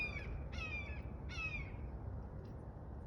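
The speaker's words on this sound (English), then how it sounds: "It's a hawk, by the way." A hawk gives three harsh, raspy cries outdoors, the second and third longer and louder, then a faint short call follows over a steady background hiss.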